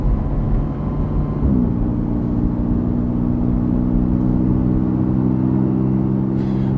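A Porsche Cayman GTS 4.0 engine droning steadily while driving, with a smooth rise in pitch early on, then a sustained, even tone heard from inside the car.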